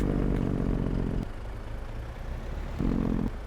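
A Mack truck engine in Farming Simulator 22, rumbling loudly with a clattering diesel idle that drops to a lower rumble partway through, then briefly swells again before settling.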